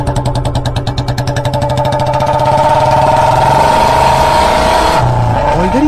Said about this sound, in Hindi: फिर रॉड के बाइक में बैठकर सारे लोग यहाँ से निकल जाते हैं।